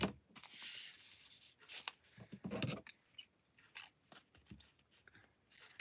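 Craft paper being cut with scissors: quiet, close snips and crisp rustles in irregular bursts, with soft handling noise between cuts.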